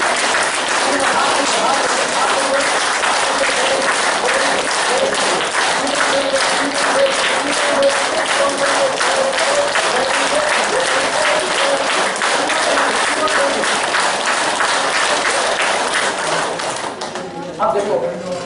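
A seated audience at a motivational talk claps hands together in unison: loud, sharp, rapid rhythmic claps, close and continuous for most of the stretch, fading and breaking up near the end.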